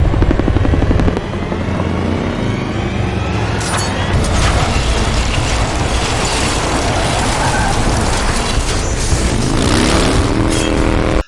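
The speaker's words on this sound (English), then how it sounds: "a huge motorcycle helicopter chase" A helicopter and motorcycle chase in a superhero film plays out as a loud, constant roar of rotor thumping and engine noise with a dense rushing wash throughout and no talk.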